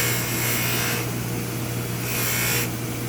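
Steady, loud whirring hum of a polishing wheel buffing the shank of a metal ring, continuous with slight swells as the piece is pressed lightly against the wheel's edge, no talking.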